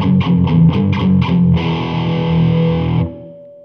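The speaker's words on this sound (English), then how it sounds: "Sometimes you hear this done in heavy metal music with power chords" Heavily distorted electric guitar plays a short chromatic riff of power chords: six quick chugged stabs, then one sustained ringing chord that cuts off sharply, loud and alone.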